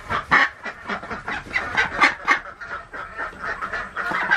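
A mother duck quacks with her naturally hatched fall ducklings, loud and close, with rapid overlapping quacks and honk-like calls continuing steadily throughout.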